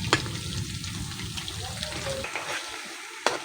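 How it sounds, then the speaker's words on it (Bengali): Chicken pakoras deep-frying in a batch of hot oil, a close bubbling crackle with stirring and a couple of sharp clinks, and a voice talking over part of it. "আর একটা ব্যাচ আমি ভেজে নিচ্ছি"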